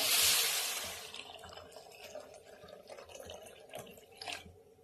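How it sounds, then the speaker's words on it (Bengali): Water poured into a pot of grated coconut with cardamom, a bright splashing rush at first that quickly settles into soft, faint trickling and bubbling close by. "আর মা জল দিয়ে দিচ্ছে।"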